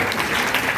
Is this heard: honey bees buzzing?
no